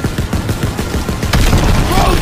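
A mounted gun fires in Call of Duty WW2 during a vehicle chase, a dense, rapid stream of shots over rumbling battle noise and engine drone, with shouted voices in the mix.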